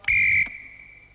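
A loud, shrill whistle blast sounds for about a third of a second during a children's football game on a 1975 BBC studio show, then rings off in a fading echo.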